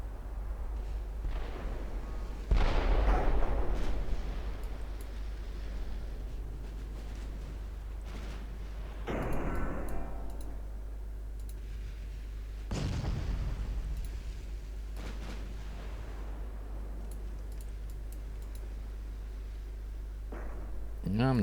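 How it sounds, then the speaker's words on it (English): A 10-inch naval gun turret fires in the warship game Ultimate Admiral, giving a few heavy, booming blasts spaced several seconds apart over a constant low engine rumble, with a voice talking in places. "I know that's a 10-inch turret popping off"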